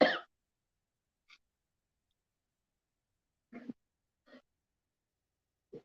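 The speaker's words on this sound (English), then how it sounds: "Sorry, y'all, I'm coughing and stuff." A few short, isolated coughs or throat sounds separated by silence, close and fairly quiet.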